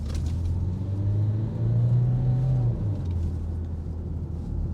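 A Renault Espace 1.6 dCi engine in sport mode idles with a deep, steady rumble, rising briefly in pitch midway as it revs, then settling back to a low drone.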